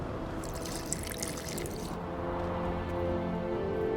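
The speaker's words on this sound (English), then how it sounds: "A bit of water." Water trickles and pours into a dye mixture in The Witcher 2, a soft, close liquid splash over a low steady background hum.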